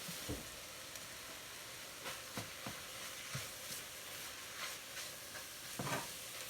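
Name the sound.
ground turkey browning in a pan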